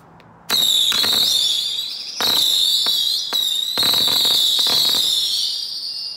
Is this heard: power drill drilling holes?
no